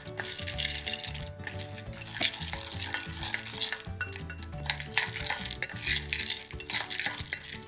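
Popcorn kernels coated in butter, ghee or olive oil are stirred with a mixing utensil, giving a close, continuous rattling scrape with clinking hits of metal against the container.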